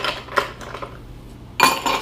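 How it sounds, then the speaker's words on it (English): Ice cubes clinking into cocktail glasses: a few bright, close clatters and rattles, a short pause, then a louder burst of ice tumbling into a glass. "So we're going to add ice to each glass"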